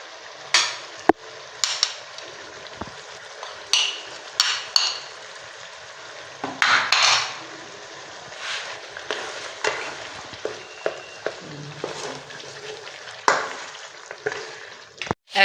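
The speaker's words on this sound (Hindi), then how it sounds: "अब हम इसमें लहसुन अदरक का पेस्ट ऐड कर लेंगे।" Garlic ginger paste frying in a pan with softened tomatoes for chicken karahi, a steady oily sizzle broken by repeated scraping and clinking strokes of a metal spoon as the mixture is stirred, close and fairly loud throughout.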